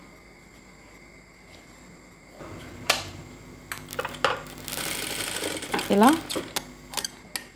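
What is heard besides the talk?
sewing machine stitching thread piping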